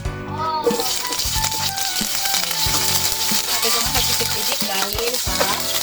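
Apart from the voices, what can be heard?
onions frying in oil in a pan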